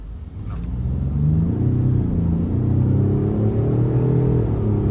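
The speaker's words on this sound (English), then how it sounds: "I'm gonna put it in a sport mode because I think I'm gonna have some open road here and just see how it accelerates." Inside a 2023 Ford F-150 Lariat PowerBoost hybrid accelerating in sport mode, a loud, steady engine rumble builds and holds with a rising drone, close to the listener and with no talk.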